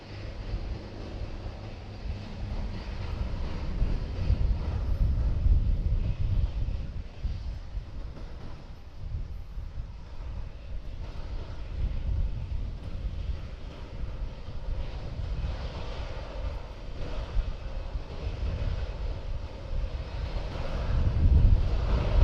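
An aircraft engine spools up and runs at SXM airport (Princess Juliana, Sint Maarten), a steady low rumbling drone that rises and falls slightly and builds toward the end.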